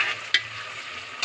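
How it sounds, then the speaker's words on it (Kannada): Tomatoes frying in a pan for green egg biryani, a steady soft sizzle with two brief louder spatters or stirring scrapes, close and without talk. "ಈಗಲೇ ಹಾಕ್ತಾ ಇದ್ದೀನಿ ನಾನು ಟಮಾಟೆ ಹಣ್ಣು. ಇದು ಚಲೋ ಹೊತ್ತಂಗೆ ಫ್ರೈ ಆಗಬೇಕು."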